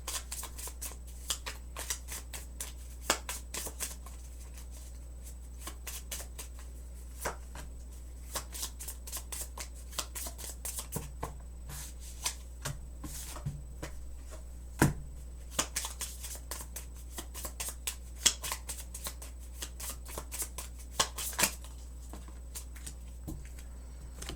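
A deck of about 30 oracle cards being shuffled by hand, with rapid riffling flutters and soft slaps that come in uneven bursts for over twenty seconds, close and quiet, against a steady low hum and with no talking.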